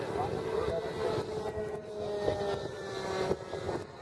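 A Durafly T-28 Trojan RC model airplane taking off right to left from a runway, its electric motor and propeller whining faintly at mid distance beneath people talking nearby.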